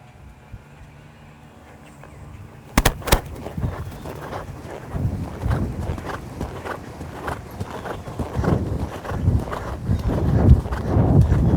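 Horse hooves thud and clop irregularly on the ground, shifting pace during tight turnback training turns, with wind buffeting the microphone.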